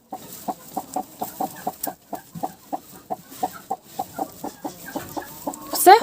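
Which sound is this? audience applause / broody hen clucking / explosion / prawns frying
broody hen clucking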